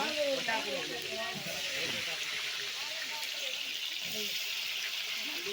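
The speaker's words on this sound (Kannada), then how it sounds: "ಎಣ್ಣೆ ಕುದ್ದಂಗೆ ಮೊದಲು ಉಳ್ಳಾಗಡ್ಡಿ ಹಾಕಾಕತ್ತೀನಿ ನೋಡ್ರಿ" Chopped onions go into a pan of boiling oil and fry with a steady, even hiss and sizzle, close and continuous, while a person talks over it.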